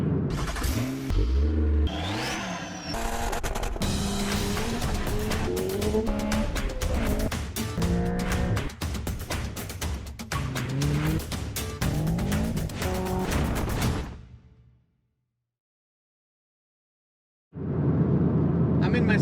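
Honda Civic Type R FK8 race car pulling hard on evening back roads, with a loud engine climbing through gears and brief tire squeal, then cutting to near silence before the engine roars again.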